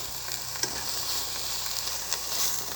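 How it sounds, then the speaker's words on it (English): Steady sizzling of onion frying in a pan, a continuous crackling hiss with a few sharper pops and stirring scrapes, close by. "give it a bit of a mix around, get the love happening between the onion and the pan"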